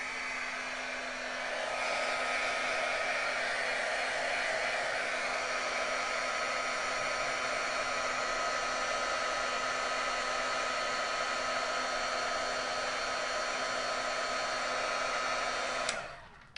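A heat tool blasts to melt embossing powder in a craft project: a loud, close, steady fan whir that ramps up after a brief start, holds evenly for about fifteen seconds, then cuts off abruptly.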